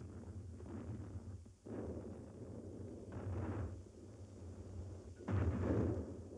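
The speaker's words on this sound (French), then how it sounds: "3 jours de bombardement ininterrompu sur les lignes allemandes." Deep rumbling artillery bombardment of World War I at Verdun, with sustained low booms swelling and fading in overlapping bursts, a heavier surge near the end, no voices.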